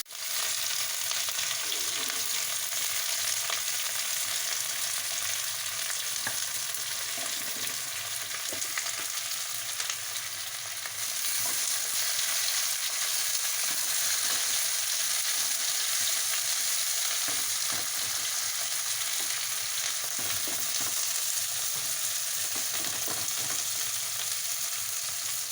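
Chopped onions and green chillies fry in hot oil, giving a steady, close sizzle with soft stirring scrapes throughout and no talking.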